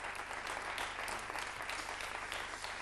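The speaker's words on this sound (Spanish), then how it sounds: "Estas son aclamaciones, aplausos" A studio audience at a 1993 television interview breaks into steady applause, a continuous, fairly faint wash of clapping with no distinct cheering voices standing out.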